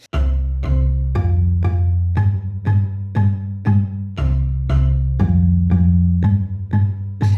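Deep wooden bass notes struck on a bass marimba in a simple repeating rhythm, each one ringing briefly and decaying, clear and close with no voices.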